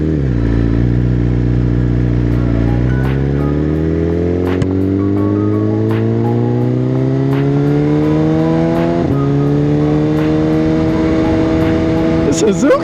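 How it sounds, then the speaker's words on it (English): A Suzuki liter-class motorcycle engine revs and accelerates up through gears, its pitch climbing steadily, loud and close, with people talking over it. "Suzuki just sounds so good today."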